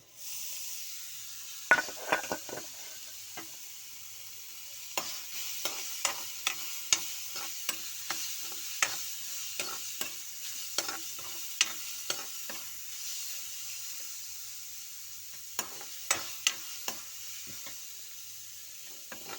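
Crumbled paneer being stir-fried for paneer bhujiya, with a soft steady sizzle beneath repeated sharp clinks and scrapes of a spatula against the pan, coming in irregular bursts.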